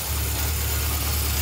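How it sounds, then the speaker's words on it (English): A 1978 Honda CB750K motorcycle engine idles smoothly and steadily after a carburetor rebuild, a continuous low rumble heard up close with no voices. "So now it's idling really nice."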